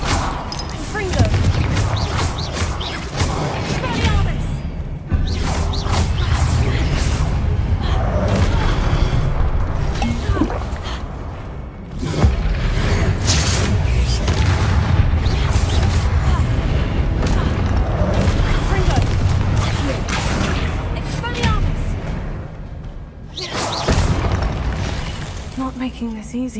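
Repeated Confringo spell explosions in Hogwarts Legacy, a dense run of booming blasts and crackling bursts over game sound, with a person talking at times throughout.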